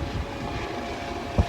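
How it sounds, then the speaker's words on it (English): An airplane passes overhead as a steady, broad engine roar that fills the whole clip, with a brief knock near the end. "just gonna wait for this airplane over here to go by"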